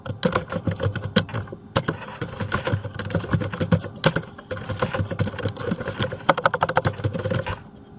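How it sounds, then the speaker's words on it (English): Fast, continuous typing on a computer keyboard plays alone at close range, with dense clicking keystrokes and short pauses before the burst trails off at the end. "So I'm going to type my name. I might type the classes that I teach. I'll just type something here like this."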